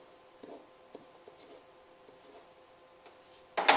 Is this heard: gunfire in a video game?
no